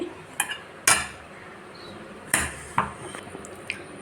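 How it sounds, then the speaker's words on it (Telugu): Boiled, cooled potatoes being mashed in a bowl with a masher: a handful of sharp, irregular metallic clanks and knocks against the bowl, close by, with quiet gaps between and no speech. "వాటిని తీసుకొని మనం ఒక బౌల్లోకి తీసుకొని స్మాషర్తో స్మాష్ చేయాలి."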